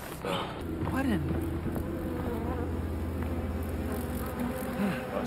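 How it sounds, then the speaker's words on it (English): Mosquitoes in Outlast 2 give off a steady, close insect buzz with rising and falling whines, while a person talks over it. "I've seen all these mosquitoes flying towards me."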